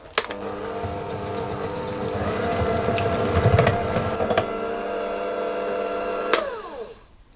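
An electric mixer whirs steadily through ricotta scone dough, its motor droning close and fairly loud, with a few sharp knocks as the beaters strike the bowl, before the motor winds down and stops.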